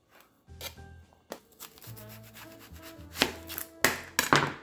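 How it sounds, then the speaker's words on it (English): Knife slicing red onions on a cutting board for a pasta salad, a series of crisp uneven cuts and taps that grow louder and quicker toward the end, close up with no talk. "Up next, I am going to slice some red onions."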